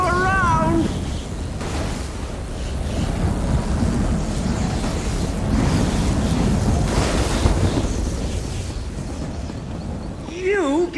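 Crackling lightning strikes and rumbling thunder-like blasts in The Elder Scrolls Online fill a dense, loud, sustained wash, with a character's voice shouting over them and an orchestral score in the background.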